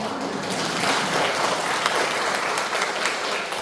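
Steady applause from an audience at a Catholic Legion of Mary curia training session, a dense even patter of many hands held at constant loudness throughout.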